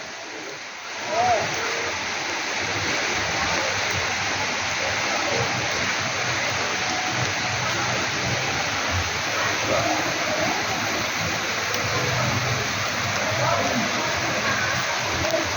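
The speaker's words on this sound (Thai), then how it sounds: "ฝนตกน้ำท่วม" Heavy rain pours down steadily with rushing floodwater, a loud, dense, continuous wash of water.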